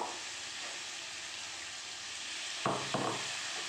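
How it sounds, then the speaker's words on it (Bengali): Cauliflower and potatoes sizzle gently in a pan as poppy seed paste is stirred in, a soft continuous frying hiss with two brief scraping stirs toward the end. "পোস্তটা দিয়ে ভালো করে একটু নাড়াচাড়া করে নিচ্ছি"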